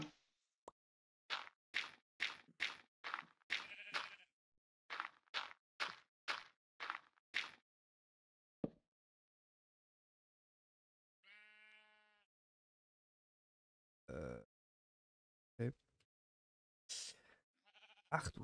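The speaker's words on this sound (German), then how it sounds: "Ich höre Schon wieder Schafe." Blocky Minecraft sheep bleating in the game, short sharp repeated sounds in a quick run, then a lone tonal bleat after a pause and a few scattered bursts, fairly quiet with silence between.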